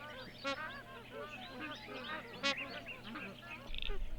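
Several honking, trumpeting black swan calls, with two louder bursts standing out over a busy chorus of other birds and a low background rumble at a lagoon in South East South Australia.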